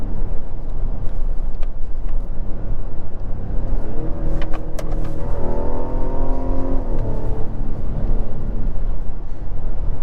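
A 2024 Mazda CX-90 Turbo Premium Plus revs up under acceleration, a steady engine drone that swells and rises in pitch partway through, heard from inside the cabin with continuous road noise and no talk.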